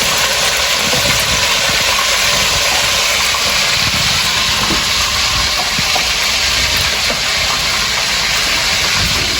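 Loud, continuous sizzling and crackling of food frying in hot oil, a steady close hiss with scattered pops throughout.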